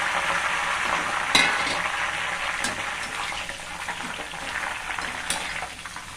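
Curry leaves fry in hot oil for cashew pakoda, a continuous crackling sizzle with a few sharp pops, close and steady throughout.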